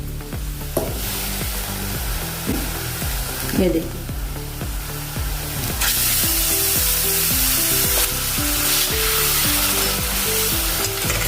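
Brinjal and tomato pieces land in a pan of frying ginger and garlic, setting off a loud, steady sizzle with repeated scraping stirs throughout; a voice speaks briefly over the cooking.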